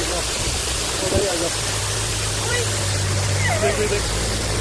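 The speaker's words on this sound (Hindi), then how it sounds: "और यहाँ तक इसकी झरने की फुहार आ रही है" A waterfall roars with a broad, constant hiss of spray, loud and close, while someone talks over it and a low engine hum runs underneath.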